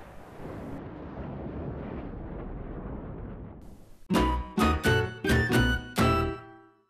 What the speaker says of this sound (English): one of the coolest things that you can do with this skull is shooting a nuke at it